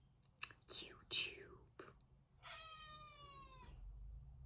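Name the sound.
cat meowing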